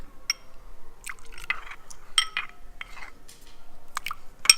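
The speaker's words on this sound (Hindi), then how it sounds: "लगभग मैं आधा कप पानी डाल चुकी हूँ।" Water is poured into a thick mustard-spiced mango pickle masala in a kitchen, with soft splashing and liquid sounds broken up by light clinks of a utensil against the bowl, fairly close and quiet.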